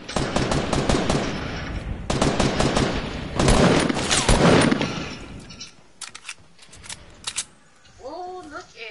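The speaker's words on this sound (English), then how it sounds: "There's a guy going ham on a turret over here" A turret machine gun fires in a video game, with loud, rapid bursts of close gunfire broken by short pauses and a few isolated shots. A voice briefly speaks near the end.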